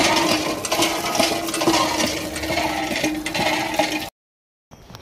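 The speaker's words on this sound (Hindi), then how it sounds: "चलो भाई पानी भरे जल्दी।" Water pours steadily into a container outdoors in a village, a continuous splashing rush lasting about four seconds before cutting off abruptly.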